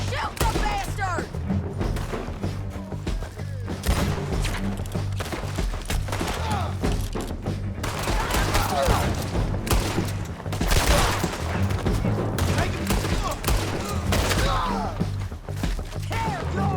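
Dense, continuous gunfire in the video game Red Dead Redemption 2, overlapping loud shots and cracks with a shouting voice over the battle throughout.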